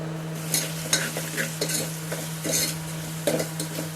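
Onions sizzle in hot oil with turmeric and chili powder as a spoon stirs and scrapes the pan in irregular strokes, fairly close and moderately quiet, with no talking.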